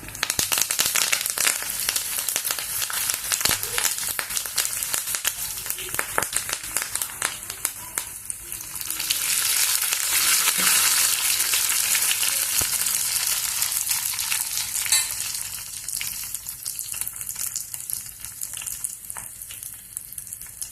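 Dried red chilies and curry leaves fry steadily in hot oil, giving a loud, dense sizzle and crackle that swells in the middle and keeps going throughout, with no talking.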